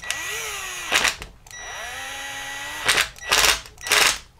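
Power driver tightening the screws that hold a small fan's plastic housing halves together, heard as several short whirring bursts with a motor whine and sharp clicks, close and loud, separated by brief pauses.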